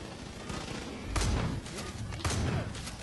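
Shotgun blasts in the Far Cry Arcade game ring out as three heavy booming shots spaced about a second apart, loud and close over a dense background rumble of combat.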